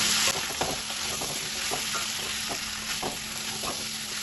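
Fried prawns stirred and sautéed with spices in a pan for a pumpkin chokka curry, a steady close sizzle with repeated scraping stirs of the spoon throughout.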